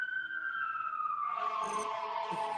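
An emergency vehicle siren wails outside, a loud sustained tone sliding slowly downward before a second, rougher siren layer joins, continuous and fairly close, with no talk over it.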